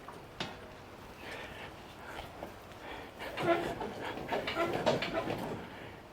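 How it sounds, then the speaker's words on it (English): A man pants heavily after wrestling a radiator out of a car during an engine swap. The quick, rasping breaths come close and irregular and grow stronger toward the end, with brief voice sounds mixed in. "I'm panting."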